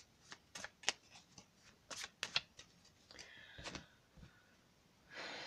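Tarot cards being shuffled by hand, a quiet close series of soft riffling snaps and slaps in uneven bursts, followed by brief rustles and a short breathy noise at the end.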